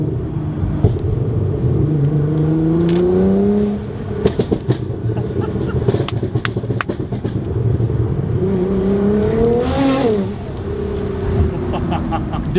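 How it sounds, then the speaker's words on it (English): Nissan R35 GT-R building turbo spool with blow-off valves venting on downshifts; rising engine and whistle sweeps, sharp hissing bursts, close and moderately loud, with brief voices in between. "On downshifts, the turbo spool and the blow-off valves go off."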